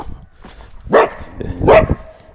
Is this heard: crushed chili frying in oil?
no